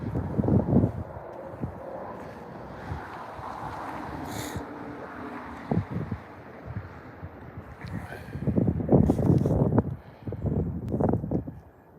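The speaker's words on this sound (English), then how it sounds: "the fact that it's a little windy out" Wind blows outdoors at a park on a brisk day, a steady low rumble of gusts buffeting the microphone, swelling into stronger bursts near the start and again toward the end.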